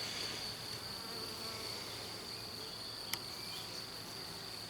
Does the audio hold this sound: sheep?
no